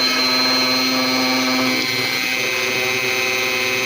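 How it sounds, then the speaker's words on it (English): A Dremel 4000 rotary tool on an extension shaft runs at 15,000 RPM while modifying an aquarium filter, giving a steady, close, high-pitched whine that shifts slightly partway through. "It's a Dremel 4000 with the extension here. Go ahead and turn it on."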